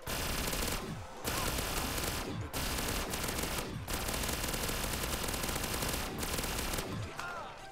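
A pack-a-punched PPSH submachine gun fires in Black Ops 3 Zombies, long rapid automatic bursts with a few brief pauses, loud and dense throughout, without talk.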